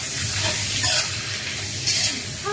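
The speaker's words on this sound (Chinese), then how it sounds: "锅热了，给这肥肉先下锅" Pork fat frying in a hot pot, a steady broadband sizzle with a few soft stirring scrapes, close and continuous with no talk.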